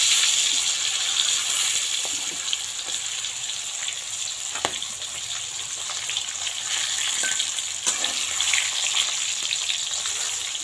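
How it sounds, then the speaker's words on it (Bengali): Long slices of pointed gourd fry in a generous amount of oil, giving a steady, close sizzle with occasional sharper pops and crackles throughout, with no voices. "তো চলো পটলটা ভেজে নিয়ে আসি।"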